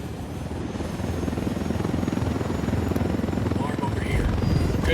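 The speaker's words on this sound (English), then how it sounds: "We got a chopper coming in." Helicopter arriving in the video game Ghost Recon Wildlands, a loud, steady rotor thump and engine drone that grows slightly louder as it approaches.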